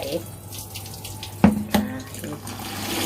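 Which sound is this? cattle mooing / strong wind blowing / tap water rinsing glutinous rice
tap water rinsing glutinous rice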